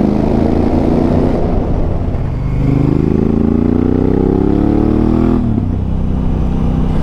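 Honda Africa Twin motorcycle engine revving, a loud steady idle rising into a drawn-out rev around the middle and dropping back, heard up close without talk.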